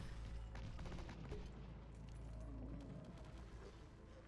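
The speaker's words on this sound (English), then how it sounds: "I get tired of this cannon shooting me for the past minute" Repeated cannon fire from an enemy emplacement in the real-time strategy game The Scouring, with booming shots and clattering impacts over a dense, continuous battle din of weapons and units.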